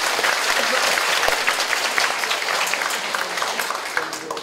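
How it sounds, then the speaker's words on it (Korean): An audience at a housing redevelopment association briefing applauds in a sustained, dense patter of many hands, steady and fairly loud for over four seconds with no talking. "이해되시면 박수 치세요."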